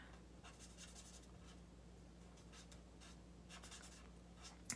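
Alcohol markers in a shaded fir green are drawn across paper to colour a fir tree, giving faint, soft scratchy strokes in quick repeated bursts over a quiet background.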